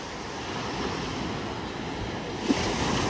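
Surf washing onto a stony beach at a Mauritius resort, a steady broad rush of waves with wind noise over the microphone and a slightly louder surge near the end.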